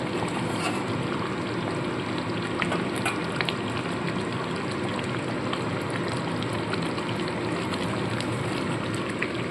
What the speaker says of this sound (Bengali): এইবার আমি এখানে ভেজে রাখা আলু আর ফুলকপিটা দিয়ে দেবো